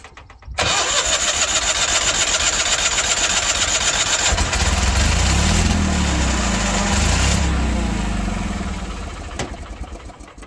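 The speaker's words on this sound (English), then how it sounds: "It's quitting when I let off the starter." A Ford F8000 truck that had been sitting for years cranks on the starter and catches, running loud and rough for several seconds before it dies off as the starter is released.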